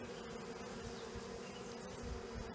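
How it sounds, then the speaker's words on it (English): Honeybees buzzing during a swarm capture, a dense continuous drone with only a few fliers left in the air, steady and fairly close. "Still bees scooting in, still a few flyers in the air, but not very many."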